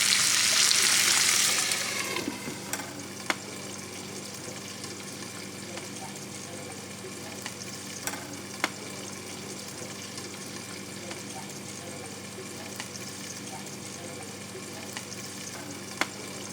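Burdock and milkweed stir-frying in sesame oil: a loud hiss and sizzle for the first two seconds, then a softer, steady crackle with occasional sharp ticks and clicks.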